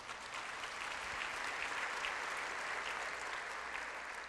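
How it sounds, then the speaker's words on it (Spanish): A church congregation at a Thursday worship and prayer service claps steadily together, a dense, even applause heard alone at moderate distance and sustained throughout. "Démosle un fuerte aplauso."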